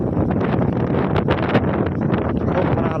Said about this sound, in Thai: ลมขนาดเลยพี่น้องเอ้ย